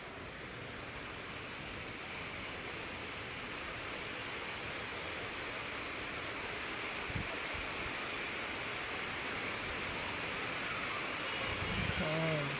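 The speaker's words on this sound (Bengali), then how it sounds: "জোর জোরে আসতেছে বৃষ্টি।" Heavy rain pours down at night in Tongi, a dense, steady hiss that stays loud and unbroken throughout, with a few faint knocks near the end.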